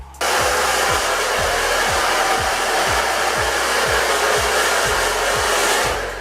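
A hair dryer blows steadily at close range for the whole stretch, a dense continuous rushing hiss with a low motor hum and a regular pulsing flutter, no voices over it.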